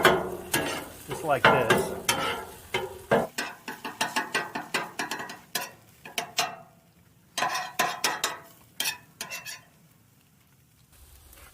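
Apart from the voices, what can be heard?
chopping food with a spatula on a Blackstone griddle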